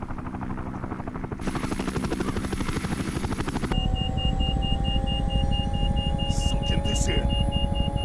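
A helicopter in the video game Sniper Ghost Warrior 2 drones steadily with a loud, rapid rotor chop throughout, joined partway by a higher steady whine and a few faint electronic tones.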